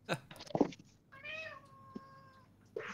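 A pet cat meows once in a drawn-out, tonal call indoors, fairly close and clear, set between brief louder bumps or voices before and after.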